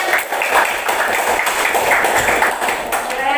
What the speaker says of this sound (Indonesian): Tuh, tepuk tangan